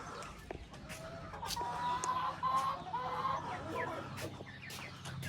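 Chickens and chicks cluck and chatter continuously nearby on a farm, with high peeping calls woven through the steady barnyard murmur.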